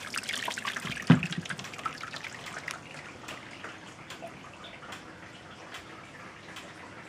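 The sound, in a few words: water trickling while sparging beer mash for pale ale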